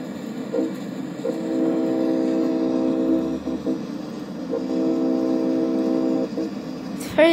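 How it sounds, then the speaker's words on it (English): A train passes in a train simulator video game, with a sustained horn sounding in two long blasts over the rumble of the cars, loud and close. "And there goes the train. There goes the train."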